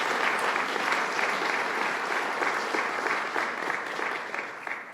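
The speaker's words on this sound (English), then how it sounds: "Let's give him a round of applause, Senator Carl Marcellino." Audience applauding for a state senator at a Long Island event on the New York State budget: sustained, dense clapping from a large crowd, loud and steady, easing slightly toward the end.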